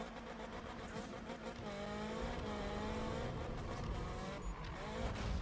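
Virtual VW Golf GTI engine in Need for Speed (2015), a steady droning note that rises and falls slightly as the car accelerates, loud and continuous with a brief tire squeal near the end.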